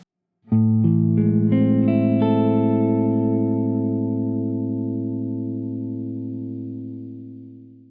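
A single sustained minor major seventh chord struck once on a keyboard, ringing with rich harmonics and slowly fading over several seconds, heard alone.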